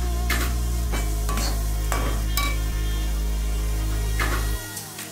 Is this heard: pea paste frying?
yes